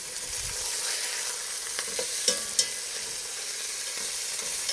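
Beef short ribs sear in a hot pan over medium-high heat with a steady, close sizzle, broken by a few sharp pops and spatters midway through, with no voices.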